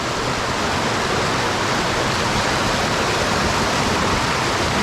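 Loud, steady rush of a river in Benguet flowing without pause, a dense constant roar like a nearby river or cascade.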